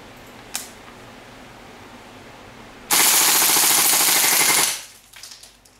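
Airsoft rifle running on green gas firing 0.2 BBs on full auto, a loud rapid burst of under two seconds after quiet, then a few faint clicks.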